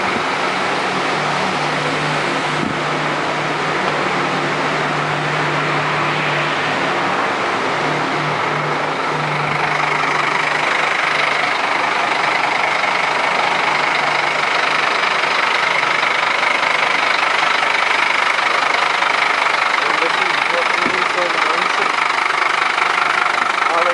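An Irish fire truck's engine idles steadily up close, a continuous rumbling drone with faint knocking that holds for the full stretch, getting slightly louder partway through, with occasional voices in the background.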